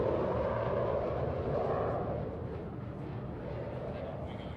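A Saab Gripen fighter jet rolls down the runway at an airshow, its engine a broad, steady roar that stays loud and constant and then eases slightly as it moves off, with no voices over it.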